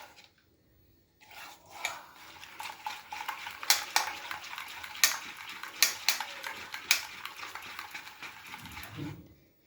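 Wet, clattering scrapes of a spoon working thick gram flour batter in a bowl, with sharp repeated knocks against the rim, close and moderately loud.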